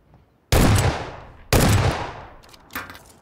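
Gunfire in the video game PLAYERUNKNOWN'S BATTLEGROUNDS: two loud, sharp rifle shots about a second apart, each with a long echoing tail, then a fainter third report.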